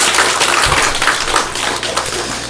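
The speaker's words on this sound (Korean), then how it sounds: "한번 박수합시다" Church congregation clapping together during a worship sermon, a loud, close, continuous wash of many hands with steady rhythm throughout.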